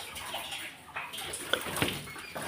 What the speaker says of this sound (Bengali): এই দেখো কেমন আওয়াজ হচ্ছে, টাইম কলে জল এসে গেছে।